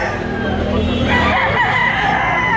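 A Red Kelso rooster, a gamefowl about a year old, crows loudly and close at hand in the middle of the clip, over a busy background with people talking nearby.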